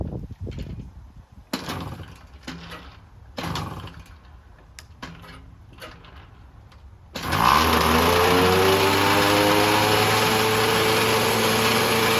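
Vintage Tomos moped engine, bought cheap and revived, that sputters through several short cranking bursts before catching and settling into a steady, loud, high-pitched buzzing run close by.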